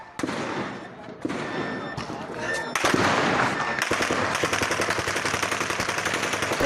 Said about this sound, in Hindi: पंजाब पुलिस की फायरिंग का लाइव वीडियो